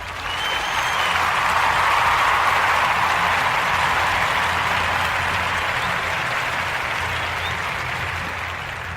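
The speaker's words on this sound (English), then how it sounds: "Let's give God a hand clap for that." A church congregation at a worship center claps together in a loud, steady burst of applause that holds for several seconds and tapers slightly at the end.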